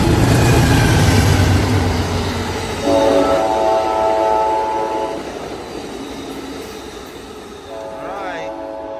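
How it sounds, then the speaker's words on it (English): A loud Amtrak Coast Starlight train, P42 and ALC-42 locomotives, rumbles past close by at Oakland Coliseum station, sounding long horn blasts over the steady roar of its wheels. A voice talks underneath. "here comes Amtrak train number 14, code Starlight"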